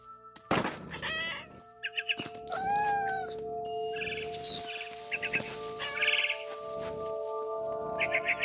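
A cat meows in What Remains of Edith Finch, with several short, clear meows and yowls mixed with bird squawks and flapping thumps over a steady droning game background.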